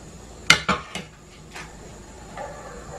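Milk, cocoa powder, cornflour and salt are stirred together in a pan over an unlit burner, giving a few sharp metallic clinks and scrapes in quick succession, then a quieter stretch.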